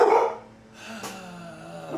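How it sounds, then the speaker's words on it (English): Dogs set off by a neighbor's lawn mowing bark and yip close by, a loud burst at first, then quieter whines and a low steady drone through the rest. "My neighbor is mowing, and it makes my dogs go crazy"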